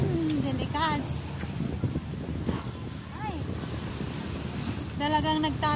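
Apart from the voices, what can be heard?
strong sea waves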